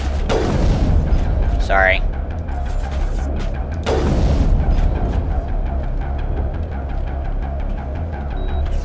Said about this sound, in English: It's an excuse to use a sniper rifle, too.